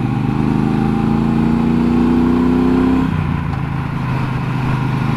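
Parallel-twin engine of a 2018 Triumph Bobber Black motorcycle accelerating on the road, a loud rising drone that climbs steadily for three seconds and then drops as the gear changes, under steady wind rush.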